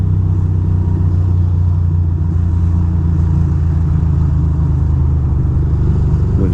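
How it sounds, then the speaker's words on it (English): A loud, steady engine rumble from motorcycles in Manhattan morning traffic, with low vehicle noise droning continuously and no talking. "There's two motorcycles ahead of me."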